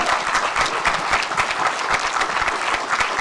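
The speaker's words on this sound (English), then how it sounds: "a big round of applause for Mark Chapman" An audience at a sports journalism talk gives a steady, dense round of applause, loud and even throughout with no voices.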